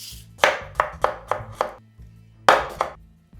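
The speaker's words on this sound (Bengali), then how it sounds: "শসাটাকে এখন আমি কুচি কুচি করে কেটে নিব।" A knife chops a cucumber finely on a board: about eight crisp, close thuds, first in a quick run of five, then a pause, then a few more, with no voices.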